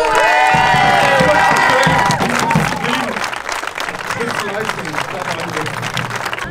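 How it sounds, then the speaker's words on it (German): Audience applause and cheering at a strongman stone deadlift competition, loud and sustained throughout, with a voice speaking over the start and the crowd settling into steady clapping. "Applaus für den Moritz."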